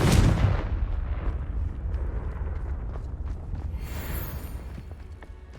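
A Confringo spell explosion in a fantasy video game hits with a heavy blast at the start, then trails off into a long rumbling decay with faint scattered crackles.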